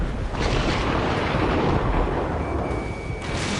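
A missile explodes in a combat flight video game, giving a sustained, loud roaring blast with heavy rumble that fills the whole moment, close and continuous, with no voices over it.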